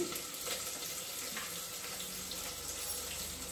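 Onion tipped into hot oil already holding cumin and mustard seeds, giving a steady, even hiss that washes across the whole stretch with no voices.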